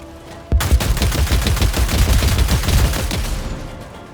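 Sustained gunfire from Warhammer 40,000: Dark Heresy bursts in abruptly and rattles densely for about three seconds, a rapid fusillade of overlapping shots that fades slightly toward the end, with no voices.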